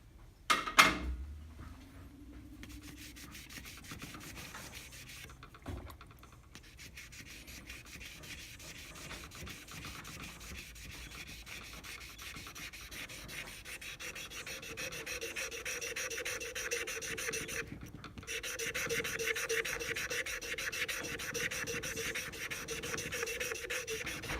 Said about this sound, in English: you're going with the grain when you're wet sanding